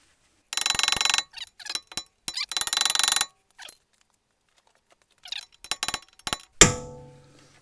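Scattered scraping and clicking bursts, then a single sharp metallic strike that rings out briefly before fading.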